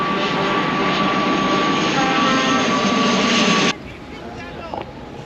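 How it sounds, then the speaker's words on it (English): An airplane flying in overhead at a truck convoy event in a park gives a loud, steady engine roar that cuts off sharply, leaving faint ambient noise. "Another plane coming in."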